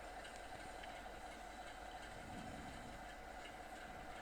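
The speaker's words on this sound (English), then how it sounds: "There's the train that we had to wait to move out of the way to let pass." A passing train in Train Sim World 5 on a route toward Blackpool rumbles steadily with a faint rhythmic clatter of wheels on rails, a continuous low wash heard alone at a distance.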